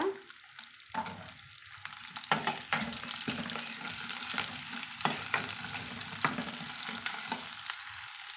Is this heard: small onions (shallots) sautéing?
yes